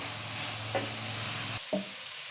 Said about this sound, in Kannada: ಸ್ವಲ್ಪ ಗೋಲ್ಡನ್ ಕಲರ್ ಬರೋವರೆಗೂ ಫ್ರೈ ಮಾಡ್ಕೋಬೇಕು